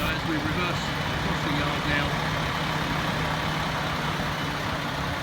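A Category C+E articulated truck with tractor unit and trailer reverses across a training yard, its diesel engine droning low and steady throughout while someone talks over it.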